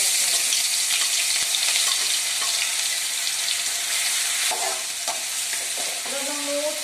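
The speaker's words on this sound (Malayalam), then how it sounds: "വെളിച്ചെണ്ണ ചൂടായി കഴിഞ്ഞു അതിനകത്തേക്ക് നമുക്ക് ആദ്യം ജിഞ്ചർ ഗാർലിക് പേസ്റ്റ്" Ginger garlic paste frying in hot coconut oil, a dense continuous sizzle with occasional stirring scrapes and light pops, loud and close with no speech.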